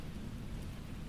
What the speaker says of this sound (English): letting the sound of rain guide you into such pleasant, comforting